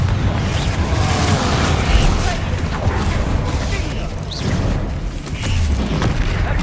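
Confringo blasting-spell explosions in the Hogwarts Legacy video game: repeated heavy booms and crashes rolling over a dense, continuous combat din.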